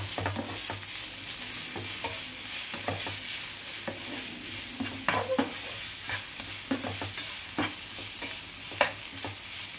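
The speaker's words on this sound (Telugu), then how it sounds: "అల్లం వెల్లుల్లి పేస్ట్, సరిపడా మిరియాల పౌడర్ ఇవన్నీ వేసిన తర్వాత ఒకసారి మిక్స్ చేసుకోవాలి" Ginger-garlic paste and pepper powder being stirred in a hot pan with soft sizzling, irregular scraping strokes of a spoon against the pan over a steady frying hiss, close and fairly quiet.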